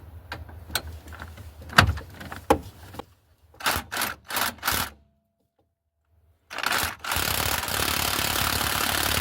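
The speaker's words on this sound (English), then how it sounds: "try to get this one off with an impact because I can't really get in there very well with a socket wrench" Impact wrench on a shock bolt of a 1998 Ram 1500, firing in several short loud rattling bursts close up, separated by a silent pause, then a longer sustained hammering run at the end.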